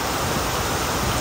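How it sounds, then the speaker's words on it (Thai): Rain falls at a fishing pond in a dense, steady hiss that fills the short stretch evenly, close and loud with no voices. "ใช่ครับฝนตก"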